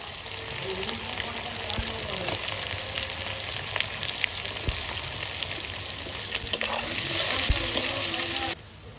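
Onions frying in hot oil seasoned with whole cumin, dried red chillies, bay leaves and whole garam masala for a mutton curry, giving a steady close sizzle with light stirring throughout that cuts off abruptly near the end.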